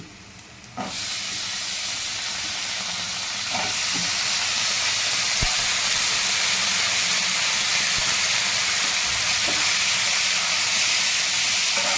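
Brinjal pieces sautéing with spices and onion in a pan for a Marathi-style bhaji, giving a steady loud sizzling hiss throughout with a few faint clinks of a spoon against the pan.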